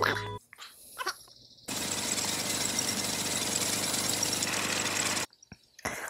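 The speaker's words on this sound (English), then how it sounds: "Yep, that's what we're starting with, a lawnmower." A lawnmower runs in a scene from the TV drama Better Call Saul, a loud, steady engine rattle lasting several seconds between quieter moments, heard through a television.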